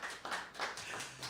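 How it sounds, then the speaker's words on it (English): A fake applause sound effect plays during a holiday auction, a short, muffled burst of crowd clapping heard as a few rhythmic surges, moderately loud and brief, with no talk over it. "Okay, turn the fake applause back on."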